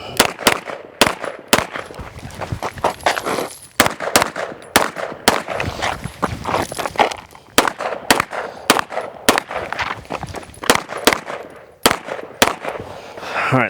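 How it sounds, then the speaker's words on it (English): CZ Shadow 2 pistol fired during a movement drill, a long run of sharp, loud shots in quick irregular strings, dozens of cracks with brief pauses between groups. "We're doing a little bit of shooting on the move when we can"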